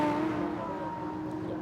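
A GT race car at Monza, with a V10-powered Audi among the field, heard as a sustained engine drone holding steady pitch for a short stretch, moderately loud and unbroken.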